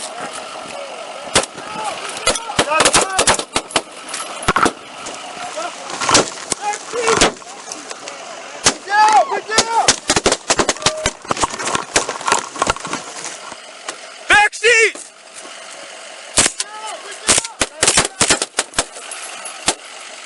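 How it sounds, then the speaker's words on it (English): A Nye County Sheriff's Office SWAT team fires rapid bursts of gunshots at a vehicle, loud sharp cracks clustered irregularly over shouting voices and an idling engine. "Those 14 rounds, fired by members of the Nye County Sheriff's Office SWAT team"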